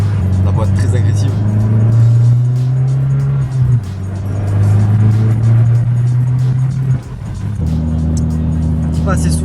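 A small Abarth sports car accelerates hard with an aggressive gearbox, its engine droning loud and steady in a rising pitch with two sharp gear changes, while a voice talks over it.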